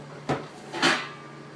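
A kitchen cupboard is opened while someone searches for a pan, giving two quick, close knocks and clatters of wood and cookware, with no talking.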